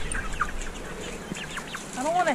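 Backyard chickens clucking close by in repeated short, scattered calls, with a voice briefly mixed in near the end.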